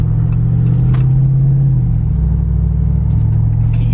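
A 2021 Jeep Wrangler Rubicon 392's V8 HEMI engine gives a loud, close, sustained rumble from inside the vehicle, its low drone shifting in pitch and then settling into a steady growl.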